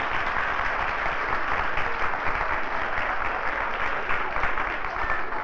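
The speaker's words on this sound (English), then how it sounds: "I think we should give them a big clap because they've really done very well" An audience at a 1971 playgroup show gives the children sustained applause, a dense and even wash of clapping that runs steadily throughout without pause.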